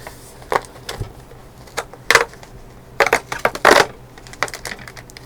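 Plastic bag of a mushroom growing kit being sliced and pulled open, a run of crisp crinkling, tearing and tapping noises in uneven bursts, close up with no talking.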